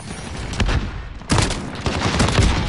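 Shotgun fire in Call of Duty: Modern Warfare, with the Model 680 pump shotgun, comes as loud, close booming blasts, a couple of sharp bursts separated by brief gaps, with no talk heard.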